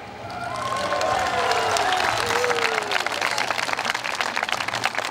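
Sustained crowd applause with some cheering at the opening of Grillfest 2008, a free open-air food culture festival in Türi, Estonia, steady and fairly loud from a large audience for about five seconds.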